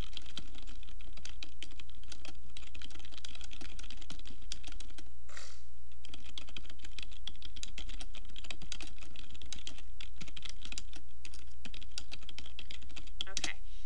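Steady typing on a computer keyboard while composing a short message to post a blog to Twitter, close-up clicks running continuously throughout with brief pauses, no talk.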